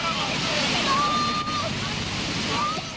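Floodwater rushes loudly and steadily around a car stuck in a swollen river, a continuous broadband roar with wind buffeting the microphone throughout.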